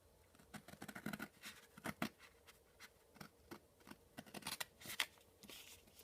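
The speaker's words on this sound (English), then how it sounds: "So I'm going to cut up through here." Paper cut along solid lines with scissors for a skimmer body, a quiet run of crisp snips and rustles in a steady irregular rhythm, close up and without talk.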